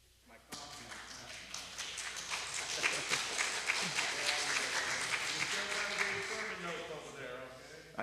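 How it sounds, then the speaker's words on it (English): A church congregation at a Lutheran congregational meeting breaks into sustained applause, dense clapping that starts suddenly and holds steady at moderate volume, with some voices mixed in. "that's not them applauding their father over there"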